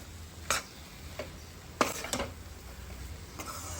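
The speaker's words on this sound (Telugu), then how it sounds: "మనం ఈ శనగపిండి ఇందులో వేసి ఫ్రై చేయాలండి" Gram flour frying over a low flame in a pan for mohanthal, with a few sharp scraping clicks of a spoon against the metal and a faint, steady background hiss between the strokes.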